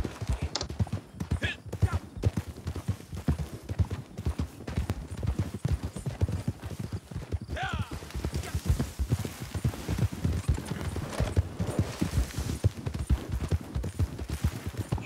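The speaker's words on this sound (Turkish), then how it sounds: "Deh oğlum deh. Seviyorum bu atı ya." A horse gallops in the video game Red Dead Redemption 2, hooves drumming in a fast, steady, close rhythm throughout, with occasional brief sounds from the rider.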